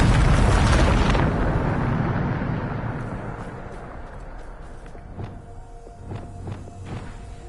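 The Bombarda spell in the Hogwarts Legacy video game explodes as a loud, roaring blast that rumbles and slowly fades over several seconds, followed by scattered thuds and crackling debris.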